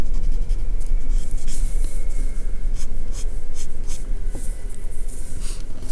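Pencil drawing on paper while sketching mousebirds, heard as close, continuous scratchy strokes in short repeated bursts, with no voices.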